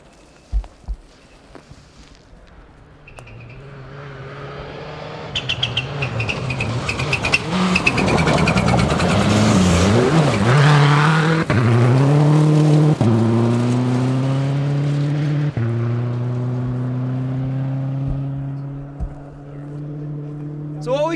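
Antoine Lestage's rally car on an Olympus Rally stage approaches from afar, revs and shifts up through several gears as it roars past close by, then its engine note fades into the distance, with a voice talking over parts.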